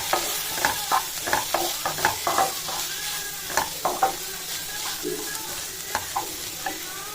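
Onion and tomato lightly sautéing in a pan for a dosa filling, with repeated spatula stirs and scrapes in an irregular rhythm over a soft sizzle, close up.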